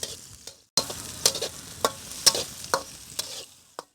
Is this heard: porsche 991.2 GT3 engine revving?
no